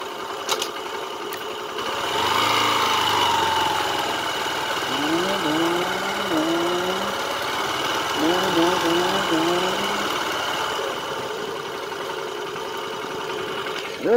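Motorcycle engine idling steadily throughout as a family rides, a continuous low mechanical hum with a voice and adult talk over it.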